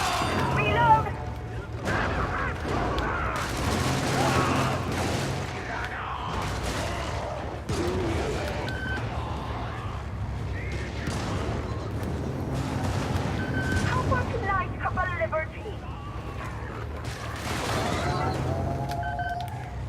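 Friendly gunfire in a video game battle, a series of sharp bursts and booming shots scattered across the stretch, some in rapid clusters, with electronic beeps and game tones layered among them.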